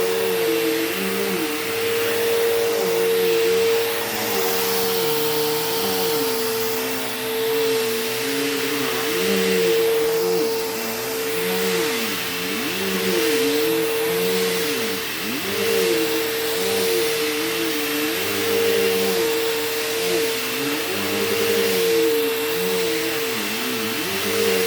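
A Bissell Cleanview Rewind Pet upright vacuum, said to have trouble with its front wheels, runs steadily and loudly throughout, its motor whine wavering in pitch as it is pushed back and forth over a rug.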